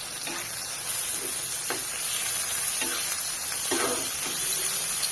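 Fish fat sizzling and frying in a pan with onions and green chillies, a steady close hiss with soft stirring scrapes repeating every second or so.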